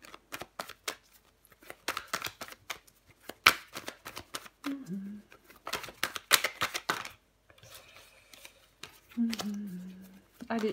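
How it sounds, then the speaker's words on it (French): Tarot cards being handled and laid out on a table, with crisp papery snaps, slides and taps in quick bursts, close by, interleaved with someone speaking French. "Je vais recouvrir des cartes."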